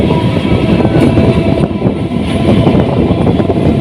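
A Haldia Fast EMU local train on the Howrah–Tamluk line runs at speed, heard from inside with a loud, constant rumble and rattling clatter of wheels on track that carries on steadily throughout, with no talking.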